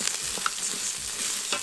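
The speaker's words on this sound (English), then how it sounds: "Oh, that sizzle is making me really happy." Basmati rice sizzles in hot oil in an Instant Pot, a steady close crackle and fizz with faint scraping as it is stirred, and nobody speaks.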